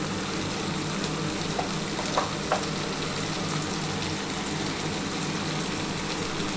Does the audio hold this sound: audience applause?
no